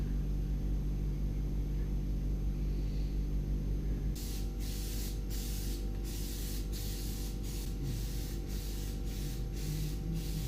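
Repeated bursts of Plasti Dip spray coating the interior of a Toyota Supra, about eight short hisses in a steady rhythm over a constant hum, with no talking.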